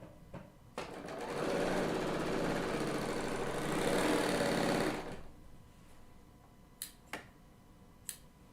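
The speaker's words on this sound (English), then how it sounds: "I'm going to just piece this on with the serger" A Bernina L890 serger pieces fabric together, with a close, steady mechanical whirr lasting a few seconds after a brief click, followed by a few sharp handling clicks and taps.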